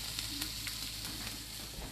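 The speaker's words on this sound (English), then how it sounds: "I can start sauteing those. Oh yes, you can hear it sizzling already." Food sizzles steadily as it sautés in a hot pan, a continuous crackling hiss with occasional faint scraping of stirring.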